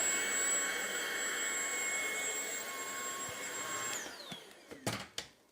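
A Tineco cordless vacuum cleaner runs with a steady high whine and airy roar, then powers down with a falling pitch, followed by a few sharp clicks and knocks.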